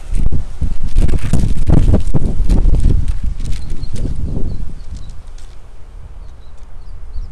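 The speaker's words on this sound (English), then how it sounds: "The wind is blowing the camera over." Outdoor wind buffets a camera set up outside, a loud broadband rumble gusting hard for the first few seconds and then easing a little while staying steady to the end, with no talk over it.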